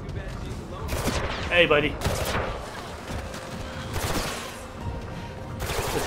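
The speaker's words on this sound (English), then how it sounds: "There's a turret gun over there" Turret gun fire in Mirror's Edge Catalyst, with bursts of sharp shots spread across several seconds, loud and close, mixed with other game noise and brief speech.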